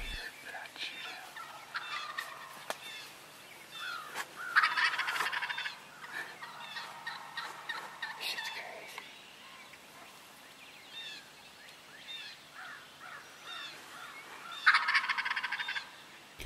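Wild turkey gobbling outdoors during spring season, two loud rattling gobbles several seconds apart, moderately near, with fainter gobbles and calls in between.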